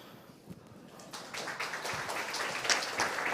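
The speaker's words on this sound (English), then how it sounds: "I want to ask a huge applause for him." Audience applause building at a web engines hackfest talk, starting sparse and swelling into steady clapping from a crowd, moderately loud and without speech.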